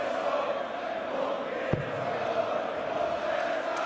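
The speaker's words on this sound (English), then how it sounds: "Crowd loving it. Fantastic atmosphere here at the Alexandra Palace." A large darts crowd at Alexandra Palace during the PDC World Championship roars in a steady, dense wash of cheering and chanting, with one sharp thud standing out partway through.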